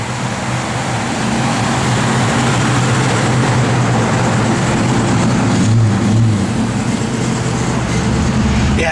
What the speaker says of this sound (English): Motor sounds good, nice and tight. Gets its R's quick.